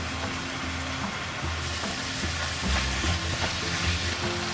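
Garlic sizzling in a hot pan as it is stirred, a continuous bright frying hiss with soft scraping and knocking from stirring, close and steady.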